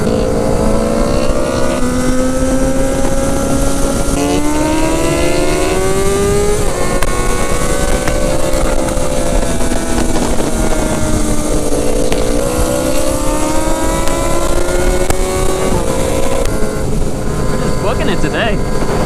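A sport bike engine runs loud and steady on the road, its pitch climbing repeatedly as it revs up through the gears, one rising sweep after another over a constant wind-and-road roar.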